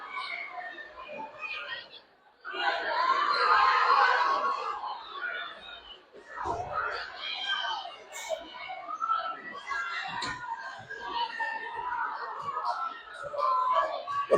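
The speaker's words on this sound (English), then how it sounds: "Great crowd for both teams in here tonight." Crowd noise at a girls' high school basketball Final Four game in a gym, a continuous murmur of chatter and shouts with a louder swell near the start.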